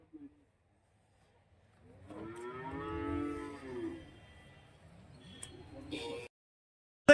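A Jersey cow moos at a cattle market in Karimangalam, Dharmapuri, one long loud drawn-out call after a brief quiet start, followed by softer rustling and a few sharp knocks nearby.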